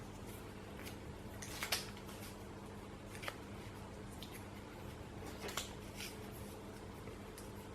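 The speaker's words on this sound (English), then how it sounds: "It's just me folding stuff." Fabric or soft items being folded at home, giving faint rustling and a few soft crinkly handling sounds over a steady low background hum, with no talking.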